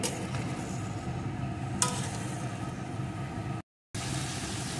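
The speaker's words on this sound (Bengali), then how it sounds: "এখন সবজিগুলোকে একটু ভেজে নেব।" Mixed vegetables fry in a pan with salt and turmeric, giving a continuous low sizzle with light stirring close by. A brief scrape comes partway through, and the sound drops out for a moment near the end.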